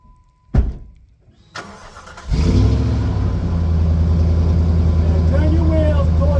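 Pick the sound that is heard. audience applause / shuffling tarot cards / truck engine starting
truck engine starting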